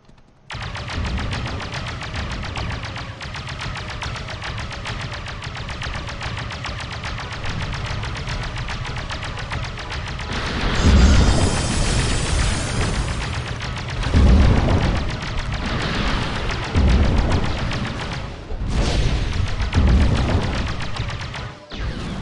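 Grenade blasts and weapon fire in the online game Star Wars Galaxies: a steady, dense stream of firing joined midway by several loud, booming explosions at irregular intervals, with no talking.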